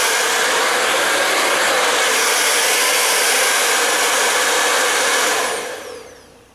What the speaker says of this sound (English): I think I'm going to really love using this hair dryer.